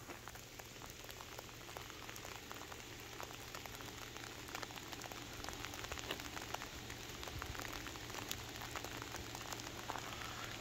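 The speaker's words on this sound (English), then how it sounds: "Yeah, it's hail." Hail pattering densely on a Jeep out on a mountain back road in the Smokies, a constant fine rattle with scattered sharper ticks, faint and steady with a low hum beneath.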